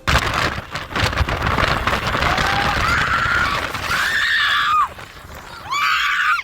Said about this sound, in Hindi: पूरी घटना को मोबाइल कैमरे में रिकॉर्ड कर रहे दूसरी कार में बैठे लोगों की चीख निकल गई।